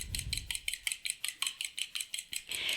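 Egg whisked gently in a small mixing bowl: a steady run of about a dozen light, rapid clinks of the whisk against the bowl, close and fairly quiet, with no talking.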